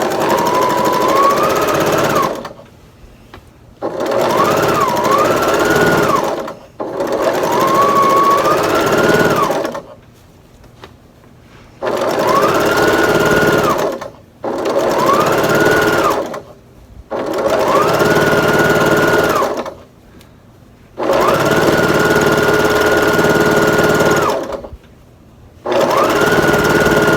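Sewing machine piecing a quilt top, running in eight separate bursts of fast, even stitching, each a few seconds long with short quiet gaps between them, close and loud, with no one talking.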